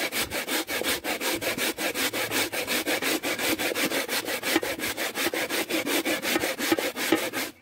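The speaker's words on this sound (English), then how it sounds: "So I'm gonna grate the sweet potato." Sweet potato is grated by hand in quick, even strokes, a close, loud rasping that repeats about five times per second without pause.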